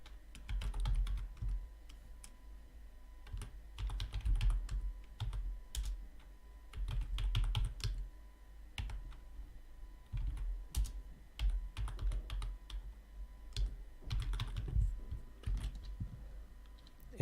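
Code being typed on a computer keyboard in bursts of rapid clicking keystrokes with short pauses between runs, close and dry, no talking.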